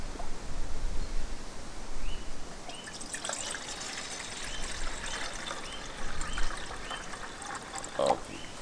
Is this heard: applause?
no